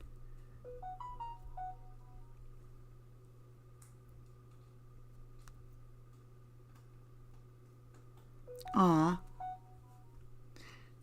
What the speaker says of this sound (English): Apparently I didn't mute my phone.